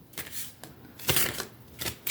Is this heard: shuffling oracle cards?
yes